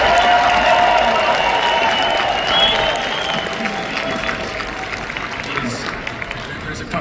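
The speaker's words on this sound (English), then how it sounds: "Clap right now." A live audience at a Timcast IRL broadcast claps and cheers in a dense, steady wash of applause that stays loud throughout, easing slightly toward the end.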